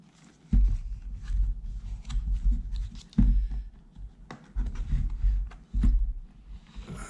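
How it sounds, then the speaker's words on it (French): Unboxing of a CooSpo bicycle cadence and speed sensor: cardboard and plastic packaging being handled, with scratchy rustling, soft taps and a few sharper knocks, close up and moderately loud, with no talking. "Donc on va le déballer ensemble."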